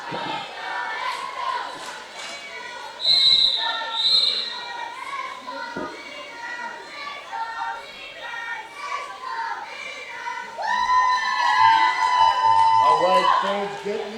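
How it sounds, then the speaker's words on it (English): Sports fans at a Pile O' Bones versus FOCO game cheer and shout for their team, a lively crowd din that swells louder toward the end, with commentators talking over it. "All right, fans, getting into it, cheering on their team."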